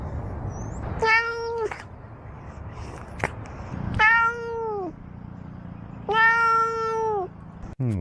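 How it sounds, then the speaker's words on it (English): Three long, loud cat meows spaced a few seconds apart, each rising and falling, over a quiet background. "I want to hear those meows again."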